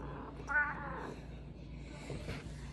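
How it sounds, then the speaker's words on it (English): A chubby female house cat gives a short, close meow, followed by quieter rustling sounds in a domestic room. "This is my cat."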